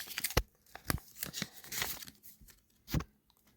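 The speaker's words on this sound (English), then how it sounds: "Getting into the box now, we got a little welcome card." A cardboard shipping box holding a Maniac Masks Friday the 13th mask being torn and opened, with close, irregular bursts of ripping, crinkling and rustling packing material, loud sharp tears among quieter shuffling.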